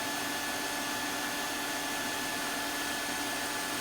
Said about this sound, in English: so I've got the vacuum on to pick up as much as it can